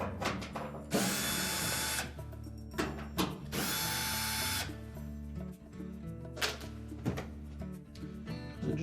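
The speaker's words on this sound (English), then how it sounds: "We'll remove these 3 screws that secure that top." A power driver backs out the three screws holding the top panel of a Whirlpool washer, with bursts of high whirring and ratcheting clicks between pauses, close and loud.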